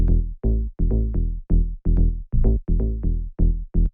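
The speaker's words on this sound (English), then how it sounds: "and like more round basses like this that are really warm." Warm, round FM synth bass for tech house plays a bouncing pattern of about eleven short, punchy notes with a deep low end, alone and fairly loud with no voices.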